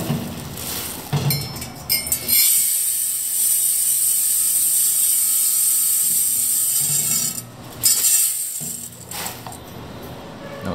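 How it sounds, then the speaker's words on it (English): Spiral feeding automatic packing machine filling rice, a close mechanical ratcheting and rattling that starts after a few clicks, runs steadily for several seconds, pauses briefly, then resumes, with no talk. "we are going to test this filling machine"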